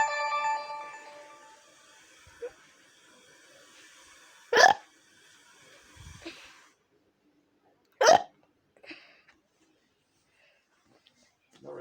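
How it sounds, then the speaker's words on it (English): A person hiccups several times, with two sharp, loud hiccups standing out over a few fainter ones, spaced a few seconds apart in a quiet room after a brief electronic ringing tone at the start. "let's see if I got any more hiccups."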